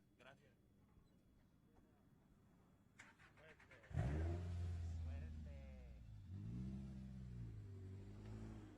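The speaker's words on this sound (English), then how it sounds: "This is the winningest Class 7 truck in the history of Baja down here." A Class 7 off-road race truck at the SCORE Baja 400 starts rough and quiet, then its engine bursts into a loud, close, rising roar and revs that hold strongly to the end, with voices in the background.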